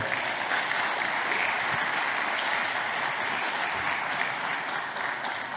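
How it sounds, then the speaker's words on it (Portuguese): An indoor church congregation at a men's service claps in a sustained round of applause, a steady even wash of hand claps with no talk on top. "o Rude, meu xará, o Ricardo e o Julião, uma salva de palmas para eles aí"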